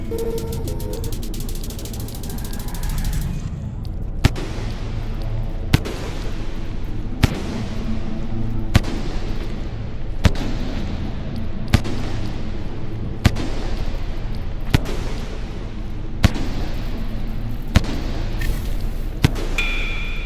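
In the video game Rain World, a series of sharp explosion cracks lands at a steady, roughly one-and-a-half-second rhythm over a continuous rumbling, mechanical game background. No voices are heard.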